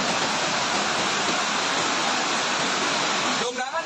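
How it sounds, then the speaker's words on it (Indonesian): Rushing floodwater from the overflowing Cipager River in Cirebon during a heavy-rain flood, a loud, continuous broadband roar that fills the whole stretch and eases slightly at the end. "Sungai Cipager meluap, gudang jebol, jalan utama tenggelam"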